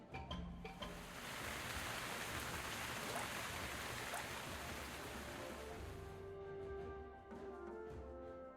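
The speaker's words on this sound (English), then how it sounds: "Alright, let's get water going right here." Water summoned in the video game Quench, a loud, dense rushing like heavy rain or surf that swells and holds for several seconds before thinning out and giving way to quieter tonal game sounds.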